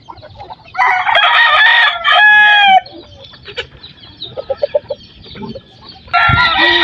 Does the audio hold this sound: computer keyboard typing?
no